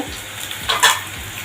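Ingredients for lemon rice sauté in ghee in a pan, a brief burst of crackling sizzle with a couple of quick stirring scrapes near the end, close and clear with no talk.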